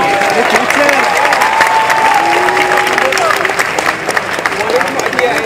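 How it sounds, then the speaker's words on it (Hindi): Loud, sustained audience applause and some cheering at a live theatre performance during an arts festival, a dense wall of clapping under voices and faint tonal calls. "Please give a big hand to both of them."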